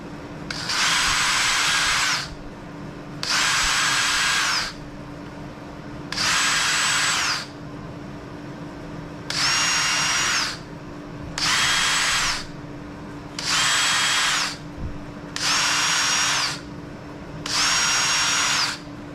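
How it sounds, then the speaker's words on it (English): A power drill whines in eight short bursts of about a second each while pre-drilling screw holes, separated by brief pauses, close by and loud. "I got a pre-drill with this drill"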